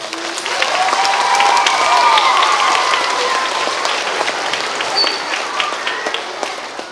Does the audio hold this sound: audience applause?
yes